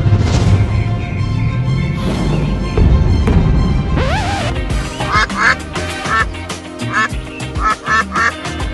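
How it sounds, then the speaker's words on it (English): A cartoon duck in the Roblox video game quacks repeatedly over game music and sound effects, the loud nasal quacks coming in quick bursts through the second half. "That's him. That's the duck."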